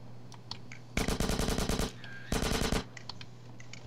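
Automatic gunfire in the video game GTA San Andreas Multiplayer comes as two loud, rapid bursts of machine-gun shots, each lasting about a second, separated by a gap with a few scattered quieter shots before and after.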